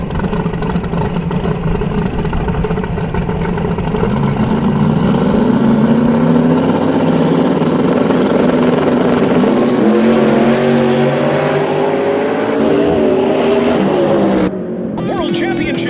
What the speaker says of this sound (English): Warren's got in a twin turbocharged machine.